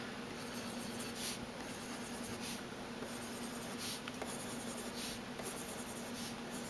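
Zebra M-301 mechanical pencil with 0.5 mm lead writing on paper, a steady soft scratching that runs through the whole stretch at a close, even level, with a few slightly brighter strokes.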